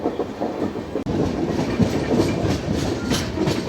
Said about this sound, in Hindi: बट अभी नए ट्रैक से अपनी ट्रेन ने पुल को क्रॉस किया